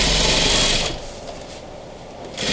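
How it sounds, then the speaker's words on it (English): Sewing machine stitching a sofa skirt fabric layered with muslin during upholstery, a loud steady mechanical run for under a second before easing off, then starting up again briefly at the end. "I'm going to start sewing"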